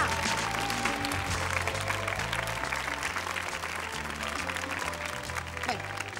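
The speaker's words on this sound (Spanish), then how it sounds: "Gracias y este aplauso." Applause from a New Year's Eve television special studio audience, joined by the San Sebastián children's tamborrada, runs continuously under a steady musical accompaniment with repeating low tones, loud and dense throughout.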